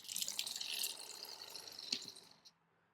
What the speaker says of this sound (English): over here I will open my faucet, so that'll make the pump want to run